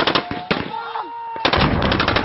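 Peshmerga heavy weapons fire at ISIS jeeps about 12 km north of Mosul, heard as loud, rapid machine-gun bursts. A brief lull with a thin whine comes between the bursts before dense firing resumes.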